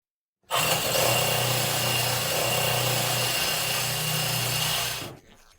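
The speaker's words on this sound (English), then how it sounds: "Use this hole then to place your hole saw and drill an opening with it," A hole saw on a power drill cuts an opening for a tap while building a bathroom, a loud continuous close-up grinding whine that starts abruptly, holds steady for about five seconds, then stops.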